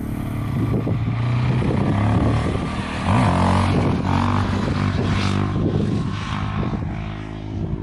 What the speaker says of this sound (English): Wheelie past the sign time.